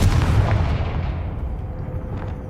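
A Confringo fire spell blasts in Hogwarts Legacy, a loud booming explosion at the start that rolls off into a long rumbling decay over the following seconds.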